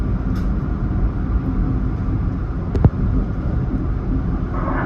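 A Metro-North commuter train pulls out of Brewster station, its steady low rumble and rolling hum close and continuous, with a brief sharp clank partway through.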